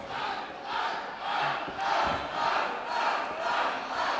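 A crowd at an indoor professional wrestling championship match roars and chants in rhythmic surges, loud and continuous, with a single sharp thud partway through.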